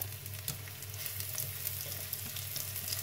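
Garlic and shallot frying in hot oil in a pan, a steady close sizzle with light crackle and occasional stirring, no talking.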